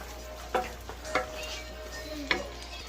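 Ground beef frying in its own fat in a pan, a low steady sizzle broken by three distinct scraping stirs of a utensil spaced about a second apart.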